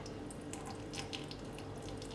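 Water poured into a bowl of sourdough focaccia dough, a faint steady trickle with small splashy bursts throughout.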